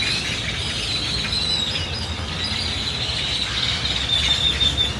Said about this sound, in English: There are hundreds of birds sitting on this tree.